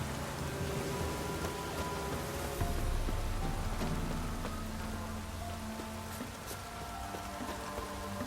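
Heavy pouring rain in The Witcher 3, a steady loud wash of rain hitting surfaces with a faint low rumble underneath, constant through the whole stretch with no talk.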